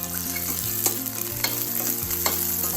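Chana dal and dry red chilies fry in a pan for tomato chutney while being stirred, a loud, continuous close sizzle with faint scraping strokes every half second or so and no talking.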